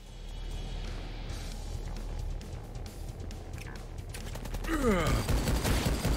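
Rapid machine gun fire rattles in the 2013 video game Rise of the Triad, a dense run of quick shots that grows louder toward the end, with muffled voices and other game sounds mixed in.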